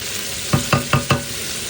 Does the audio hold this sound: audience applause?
no